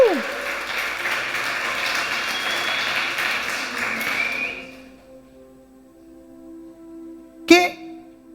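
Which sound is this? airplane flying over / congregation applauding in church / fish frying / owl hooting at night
congregation applauding in church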